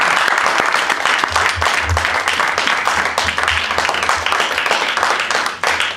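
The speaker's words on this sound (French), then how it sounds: "Clap for Jesus." A church congregation claps for Jesus during a bilingual English-French sermon, a dense, steady burst of many hands applauding together, loud and close for the whole stretch.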